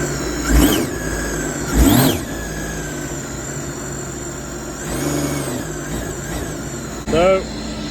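A 2023 Sea-Doo GTX Limited 300 jet ski with a Stage 1 setup and no seat, its engine whining past in several short swells over a steady background drone.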